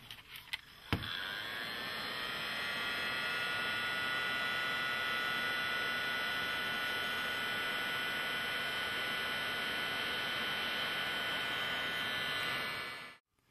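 A hot air gun blowing steadily on heat shrink tubing over a soldered wire joint, a continuous whooshing hiss with a faint whine that starts with a click and runs unbroken for over twelve seconds before cutting off.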